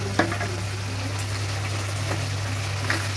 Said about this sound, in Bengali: পুরো মশলাটা ভাজা হবে